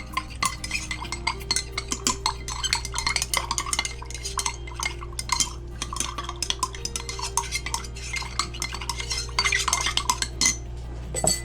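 Homemade facial toner being stirred in a container, with quick rhythmic clinks and taps of a utensil against its side repeating continuously over a low steady hum, no voices.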